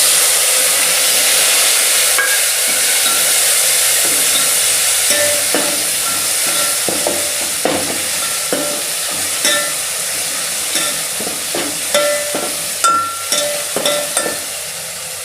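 Tomatoes frying in hot oil with ginger and garlic for a coconut dal, a steady close sizzle and hiss with occasional scraping stirs and sharp taps of a spoon against the pan.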